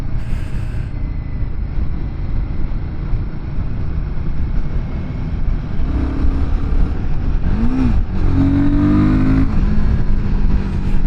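A Royal Enfield Guerrilla 450 engine idles with a loud, steady rumble close by, then revs up toward the end with rising, sweeping engine tones.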